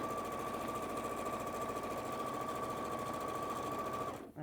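A sewing machine runs steadily for about four seconds, stitching along the bottom of a quilted bag and sewing its handle into place, then stops. The whirring motor carries a continuous tone and sounds close and loud, with no one talking.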